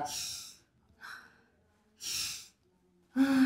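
Forced deep breaths during a doctor's examination, several loud, airy breaths in and out spaced about a second apart, close to the listener, with a short voiced sound at the end.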